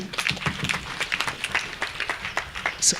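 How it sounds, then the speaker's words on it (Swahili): A church congregation at a deanery anniversary service clapping together, a brisk, uneven run of hand claps filling the room throughout. "Simuwapigia makofi."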